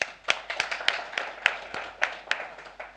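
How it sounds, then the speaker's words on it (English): Applause for a speaker at a debt conference, a thin, close smattering of individual claps in an irregular rhythm, fairly sparse rather than a full crowd roar. "Another round of applause for him,"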